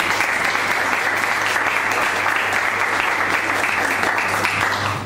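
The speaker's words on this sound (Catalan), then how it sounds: "Un aplaudiment per ella." Loud, steady applause fills the hall at a Sant Jordi 2014 celebration in a residence and day centre. The dense clapping holds evenly from start to finish, then eases slightly at the end.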